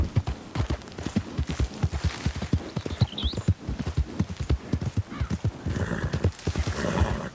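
In Red Dead Redemption 2, a horse whinnies over a rapid, steady clip-clop of hooves, the galloping rhythm continuing loud and close throughout.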